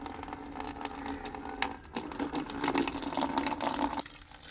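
Water gushes from a tap into a bucket at a house, a rushing, splashing stream with small fluctuations that cuts off abruptly near the end. Moderately faint, with no talking.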